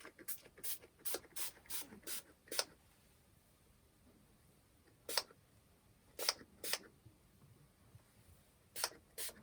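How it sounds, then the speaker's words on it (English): Short hissing bursts of heat protectant spray onto hair: a quick rapid series, a pause, then a few more scattered puffs, close by and otherwise quiet. "I'm going to apply the heat spray"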